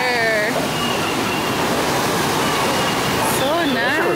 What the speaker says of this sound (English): Look at this water.